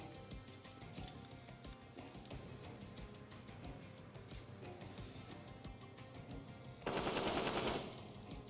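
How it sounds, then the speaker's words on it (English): Gunfire in the tactical shooter game Door Kickers 2, rapid bursts of shots rattling under constant background noise, ending in a louder, denser burst of automatic fire. "Now there's someone shooting from somewhere."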